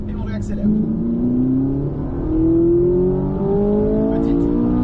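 Race car accelerating out of a corner on a circuit, engine pitch climbing steadily through the gear with a brief shift, close and continuous, with a driver talking over it.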